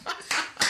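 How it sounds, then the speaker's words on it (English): Three sharp hand claps in quick succession, close and fairly loud, spaced about a third of a second apart, with no voices. "stop clapping like a fucking seal"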